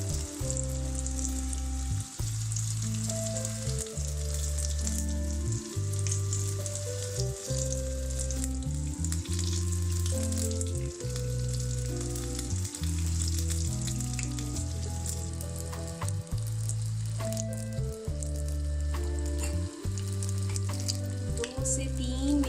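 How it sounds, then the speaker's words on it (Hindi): Rice and potato cutlet donuts fry steadily in hot oil over a medium flame, giving a dense, continuous sizzle and crackle with a low bubbling hum throughout, close and fairly loud, with no talking. "ऑयल गरम हो चुका है, अब हम फ्राई कर लेंगे।"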